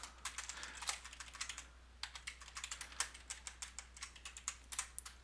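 Someone types on a computer keyboard in quick, uneven bursts of sharp key clicks with brief pauses between them, close but quiet over a low steady hum, with no talking.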